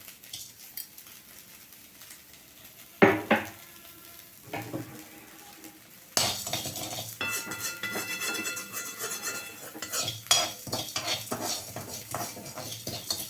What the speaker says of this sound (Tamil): உப்பும் கொஞ்சம் வறுத்துங்க, அளவாக போட்டுங்க.